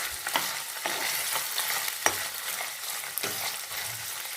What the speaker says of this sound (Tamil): ஆயில் ஹீட் ஆகிட்டு இப்போ வந்து லைட்டாக மட்டும் ஃப்ரை பண்ணி எடுத்துக்குவோம்